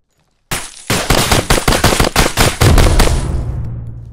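Rapid gunfire in the Direct Contact tactical FPS video game, a loud close burst of about a dozen sharp shots in quick irregular succession, ending with a heavier boom and a fading echoing tail.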